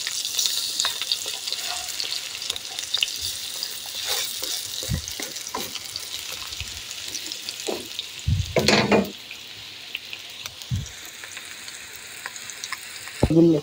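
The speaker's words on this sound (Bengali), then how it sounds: "এটা আমার পাকুড়াগুলি ভাজা প্রায় শেষের দিকে।" Pakoras made of meat pieces and masoor lentils frying in hot oil give a constant crackling sizzle, interrupted by several clunks and scrapes as the pieces are turned with a utensil, close and fairly loud throughout.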